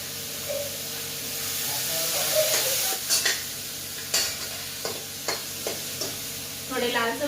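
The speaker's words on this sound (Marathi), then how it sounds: "मी टोमॅटो चिरून घेतलेला आहे आणि हे परतून घेणार आहे थोडेसे तेलामध्ये" Chopped tomatoes sauté in a little oil for a Maharashtrian tomato thecha, giving a steady soft sizzle with a spoon scraping and stirring the pan in several short bursts. No voices.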